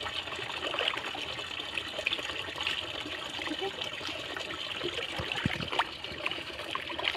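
Water pours and trickles steadily beside a cow-dung preparation, a continuous splashing wash at moderate level with faint room noise and no talk.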